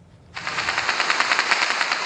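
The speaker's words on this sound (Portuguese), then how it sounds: "policiais trocam tiros com os traficantes" After a moment of quiet, a sudden, sustained burst of rapid automatic gunfire rattles on, harsh and crackling, seemingly at some distance, as police exchange fire with drug traffickers in Complexo do Alemão, Rio de Janeiro, 2010.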